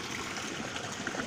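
Steady broadband rush of river water flowing continuously beside a riverbank, a constant even wash with no gaps, fairly close and moderately loud, with no voices over it.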